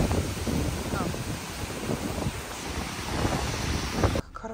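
Floodwater from a hurricane in Florida rushes into a house, surging and splashing loudly and continuously, mixed with wind buffeting, before cutting off abruptly near the end.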